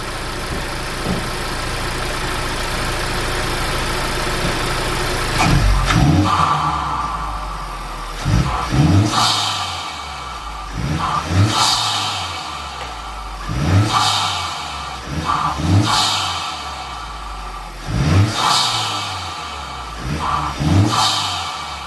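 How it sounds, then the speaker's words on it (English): A Honda Civic Type R (FK8) engine with a high-volume intake idles, then revs sharply again and again, each burst climbing and falling back, roughly every two to three seconds, loud and close. "we'll give it some revs"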